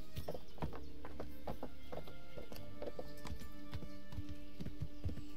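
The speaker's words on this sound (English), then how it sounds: "Nice white horse." Horse hooves clip-clop steadily in the game Kingdom Come: Deliverance, with a white horse nearby and a whinny blending into the rhythmic, close trotting.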